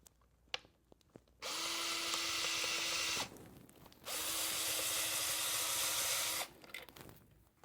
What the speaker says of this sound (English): We're going to try to let the screwdriver do the work.